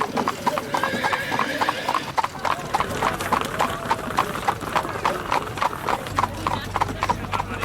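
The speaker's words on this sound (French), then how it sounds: "Avec l'arrivée au galop dans le Curro, l'arène où 250 chevaux seront confinés." Horses gallop into the Curro arena at the Rapa das Bestas in Sabucedo, a rapid, steady clatter of many hooves, close and loud, with neighing and crowd voices mixed in and a low rumble entering near the end.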